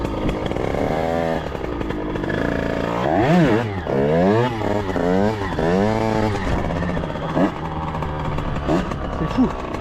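A 50cc motorcycle engine revs hard during stunt riding, its buzzing two-stroke pitch swooping up and down in repeated surges, loud and close, with someone speaking between bursts.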